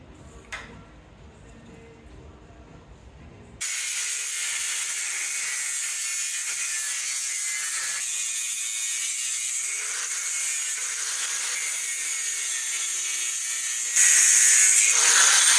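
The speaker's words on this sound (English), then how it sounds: "So I'm gonna cut a couple of these tabs." Cutting small aluminum tab pieces for repairing an aluminum boat engine block, a loud, steady high-pitched cutting whine that runs continuously after a quiet start and grows louder near the end.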